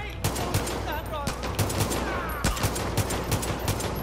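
Enemy light machine gun fire in Far Cry Arcade: steady rattling bursts of rapid shots keep coming through the clip, close and loud over game background noise, with a voice talking now and then.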